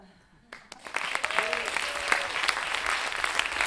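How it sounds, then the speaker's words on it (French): An audience at a slam poetry tournament night in Lyon breaks into applause, clapping swelling quickly from a few claps into steady sustained applause, with a voice speaking over it. "On applaudit la poésie de Zlatko Kanic, s'il vous plaît."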